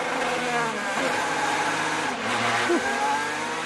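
IndyCar race car in orange and black pulling out onto the track during practice at Indianapolis, its engine a steady mid-range drone with a brief rising rev near the end, under continuous background noise.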